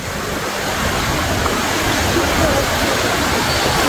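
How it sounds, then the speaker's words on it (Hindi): Steady, loud rush of the Tiger Fall waterfall in Chakrata, Uttarakhand, a broad continuous roar of falling water heard close by throughout, with no other sounds standing out. "आवाज आ रहा है पानी का"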